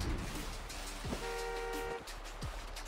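A car horn honks in the Japanese version of Like a Dragon: Infinite Wealth, a sustained toot of about a second after a short tap, over game background noise.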